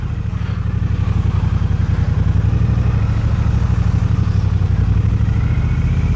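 A 2022 Triumph Bobber motorcycle engine runs steadily and loud up close, a dense low rumble with a fast regular pulse throughout, no voices over it.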